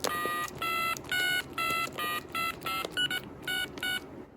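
A Trimline telephone keypad sounds about nine buzzy DTMF touch tones with a square-wave edge. Each beep is short and evenly spaced, close and fairly loud over low background noise.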